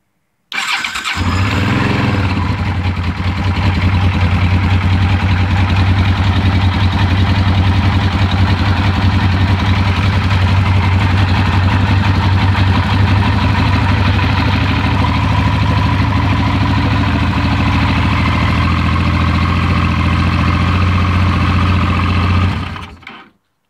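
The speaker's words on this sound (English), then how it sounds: "Engine's on, run. I'm gonna press the start button." A 1985 Honda VT500 motorcycle engine starts up and settles into a steady, loud idle that runs without a break for over twenty seconds before cutting off.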